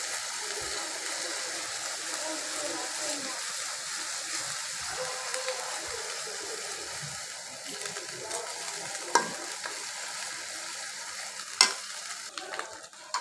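Ginger and garlic paste fries in a pan with a steady, soft hiss and sizzle, broken by a few light clicks of stirring near the end.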